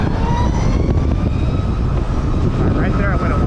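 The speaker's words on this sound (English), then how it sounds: "Right there I went a lot quicker with the roll on the throttle" A Zero SR electric motorcycle accelerates, its motor whine rising in pitch over heavy wind rush, loud and steady, while a rider talks throughout.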